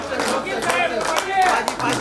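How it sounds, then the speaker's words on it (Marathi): Clapping for award recipients at a staff get-together of the Bhiwandi bus depot, a steady patter of hands running through the whole stretch with voices mixed in. "अवॉर्डांसाठी टाळ्या होता"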